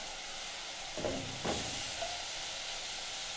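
Ripe tomatoes added to a pan of cooking onions give a steady, fairly quiet sizzle and hiss, with two brief louder bursts of frying early on and no voices.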